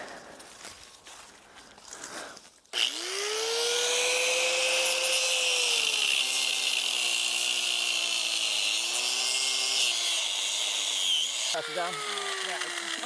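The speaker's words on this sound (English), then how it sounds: "So we're gonna go grind my tire off." A grinder cuts into a tire, starting abruptly with a loud, steady, high whine and hiss that runs continuously, its pitch dipping slightly under load, close to the microphone.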